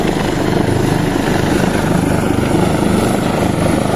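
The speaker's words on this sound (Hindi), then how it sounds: "वो जो दूसरा हेलीकॉप्टर है वो भी पास है।" A rescue helicopter hovers close by during a chair lift rescue in Allai, Battagram, its rotor producing a loud, continuous, even thudding roar that fills the scene without a break.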